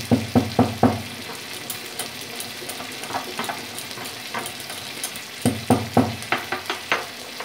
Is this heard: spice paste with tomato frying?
yes